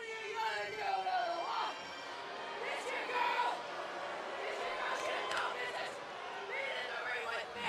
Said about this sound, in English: Highly partisan crowd here in Sacramento